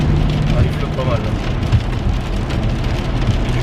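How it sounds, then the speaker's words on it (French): Heavy rain pours down steadily on the way home, a dense, loud, constant hiss of drops on surfaces with low rumbling underneath and no pauses. "il pleut des cordes"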